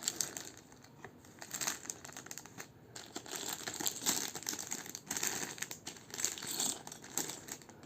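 Small plastic bags of LEGO pieces crinkle and rustle nearby as they are handled, in steady irregular bursts without any talking.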